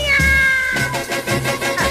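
A cat meow sound effect set into an upbeat Dutch drinking song. It plays as a pair of loud, close meows against the music's backing.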